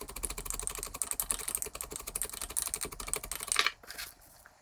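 Wooden spoon's butt end packing shredded cabbage for sauerkraut, a rapid run of close, crisp pounding and crunching taps for several seconds that stops abruptly near the end.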